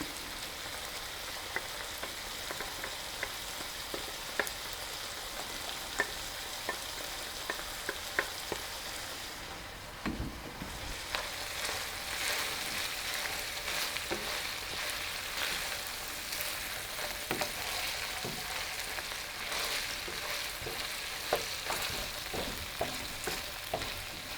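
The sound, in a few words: garlic sizzling as it is added to the stew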